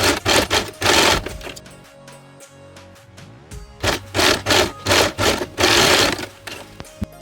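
Domestic sewing machine stitching zipper tags onto fabric for a wedding purse, loud rapid mechanical whirring in several bursts with short pauses between runs, close up and without speech.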